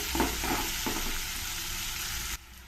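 Onion and capsicum frying in oil for upma, a steady close sizzle with a few soft stirring scrapes early on, cutting off abruptly near the end.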